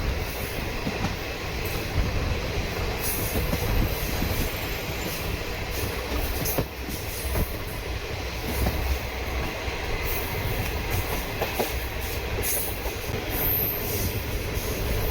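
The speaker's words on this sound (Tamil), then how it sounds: "16847 செங்கோட்டை எக்ஸ்பிரஸ் மயிலாடுதுறை டு செங்கோட்டை." The Sengottai Express passenger train, running from Mayiladuthurai to Sengottai, rolls steadily on its rails with a loud continuous rumble, rhythmic wheel clatter and occasional faint squeals, heard close and without talk.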